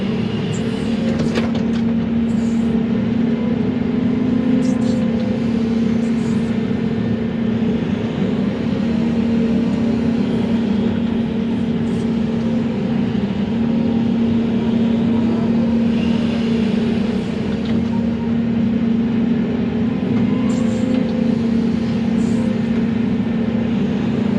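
A heavy machine swinging out while building a pond dam: a steady, loud mechanical drone with a constant low hum and rumbling texture, continuous throughout with no breaks.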